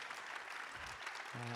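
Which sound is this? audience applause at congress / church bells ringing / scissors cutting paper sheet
audience applause at congress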